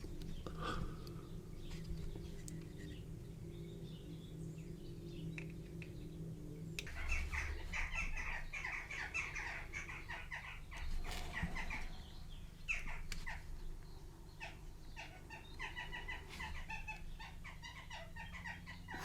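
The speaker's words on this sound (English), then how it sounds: "Sorry about the jackdaws outside arguing." Jackdaws call and squabble outside, a busy run of sharp chattering calls at middling distance over steady low background noise.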